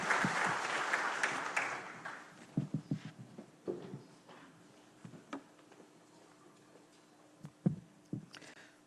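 Audience applause for a supreme court judge at a justice congress closing ceremony, a burst of clapping at the start that quickly thins into scattered individual claps and faint room noise.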